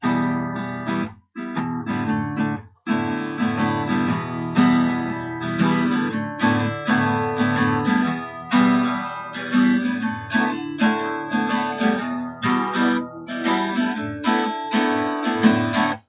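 Guitar chords strummed steadily in a quick rhythm, the strings ringing out between strokes, close and clear with no talking.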